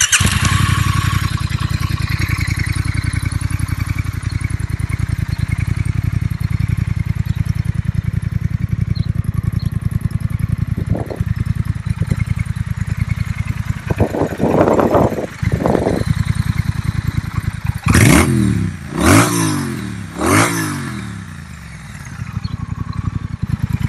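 A Triumph Thruxton 1200 R motorcycle idles with a loud, steady throb, then its engine is revved several times in quick sharp blips that rise and fall before settling back to idle, close up with no talking.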